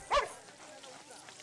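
A puppy being bathed lets out one short, sharp yip near the start, then only quiet background remains.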